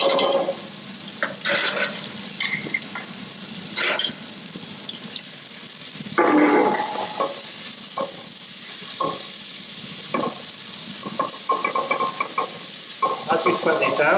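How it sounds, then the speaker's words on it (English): Onions, chili and garlic sweat gently in olive oil in a pot, a soft sizzle underneath repeated stirring scrapes and clatters, fairly close, without speech. "I'm going to sweat down these ingredients here, onions, chili and garlic, without colour."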